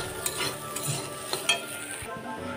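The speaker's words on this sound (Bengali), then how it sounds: "আলুটা একটু ভাজা ভাজা হয়ে আসছে" Potatoes sizzle steadily in a frying pan over a low gas flame, with a utensil stirring and scraping through them and sharp clinks against the pan, close and continuous.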